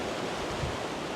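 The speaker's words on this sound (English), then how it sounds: "It's a beautiful waterfall." A waterfall on the walking path up to Red Pike above Buttermere in the Lake District, a steady, close rushing roar of falling water that fills the whole moment without any voices.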